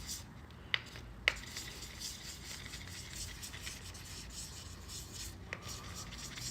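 Faint back-and-forth rubbing of 400 grit sandpaper wet sanding a part by hand, a soft continuous scrape with a few sharp ticks and taps scattered through it.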